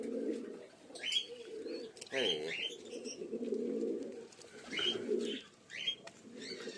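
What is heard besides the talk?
pigeons cooing in a loft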